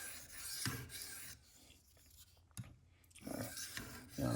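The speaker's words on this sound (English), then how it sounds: "Just doing those edge aligning passes." Light back-and-forth edge-aligning passes of a Spyderco Paramilitary 2 knife in CPM-10V steel across a 600 grit sharpening plate make soft, close scraping strokes with a sharp tick of contact between some of them.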